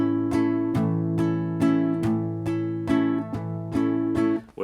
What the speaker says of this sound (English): If I was to just hold it down, it will sound like this.